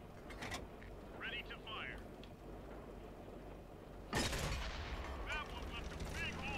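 A tank cannon fires in World of Tanks, one sudden loud broadband blast partway through with a long rumbling tail, over steady engine drone, with talk and radio chatter before it.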